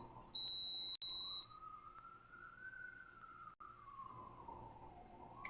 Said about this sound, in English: Okay, stop beeping.